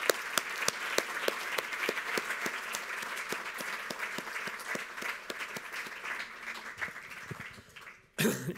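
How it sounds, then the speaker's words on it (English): Sustained audience applause at a public science conference anniversary event: dense, steady clapping from a large crowd that carries on for about eight seconds before cutting off abruptly near the end. "and a big applause for you"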